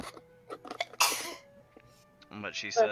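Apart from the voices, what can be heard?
sneeze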